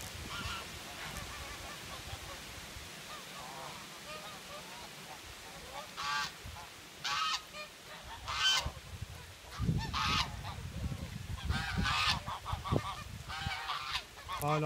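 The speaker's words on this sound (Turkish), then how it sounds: "Hala geliyor kazlar." A flock of domestic geese honks repeatedly on a farm as the birds come back in, loud overlapping calls building through the second half over steady outdoor background noise.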